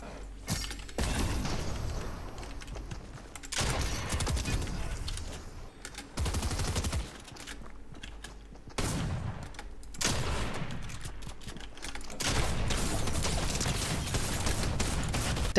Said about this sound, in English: Dang, drum shotgun, that's what I need. Well, that person got smacked by the shotgun as well, and then the other one with a rocket.